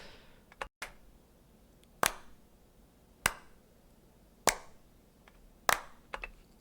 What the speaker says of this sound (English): These are just some random claps we did.